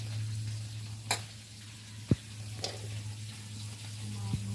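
Onions frying in a pan in a home kitchen, a soft continuous sizzle under a low steady hum, broken by a few sharp clicks and clinks of utensils against the pan.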